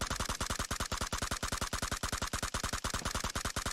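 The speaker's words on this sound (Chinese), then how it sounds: "咦，怎么身后还有枪声？" Sustained automatic gunfire behind the player in a battle royale video game: a rapid, even stream of shots at a steady, fairly loud level throughout, with no voices.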